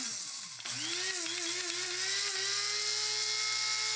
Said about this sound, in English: So for that, we'll use our handy spice grinder.